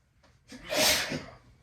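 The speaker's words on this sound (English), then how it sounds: "Sorry you guys hear me sneezing in the background." A single sneeze, quick intake then a sharp burst, fairly faint and close, with nothing else around it.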